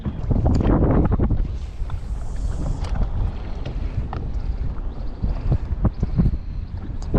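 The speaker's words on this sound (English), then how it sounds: "There's no escaping this wind" Strong wind buffets a microphone aboard a fishing boat in shallow water, a loud, continuous low rumble with gusty swells and scattered knocks from the hull and gear.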